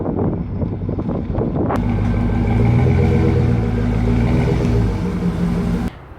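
A Jeep SRT fitted with a K&N intake revs up from a rough idle into a loud, steady, deep engine drone held for several seconds, then cuts off abruptly.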